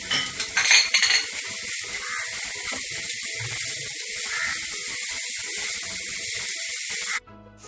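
Four thinly sliced onions sizzling in oil with salt in a pan while cooking spicy mutton kaleji: a steady, bright hiss throughout, with a few spoon clatters and stirring scrapes near the start, ending abruptly.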